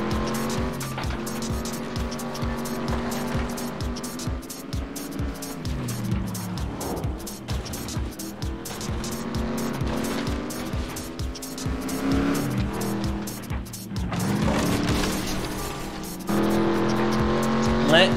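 Race cars in the video game FlatOut 2 roar and skid, with loud engine revving, tire squeal and crash noises running continuously, while someone talks over the action.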